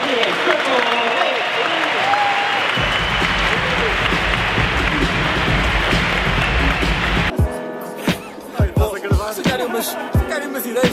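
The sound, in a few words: applause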